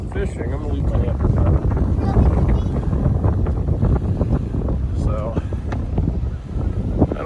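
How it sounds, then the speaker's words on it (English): Strong gusty wind buffets the microphone outdoors by the ocean on a blustery day before a fishing attempt, a constant low roar with rumbling bursts while a person talks over it. "So it's kind of windy out."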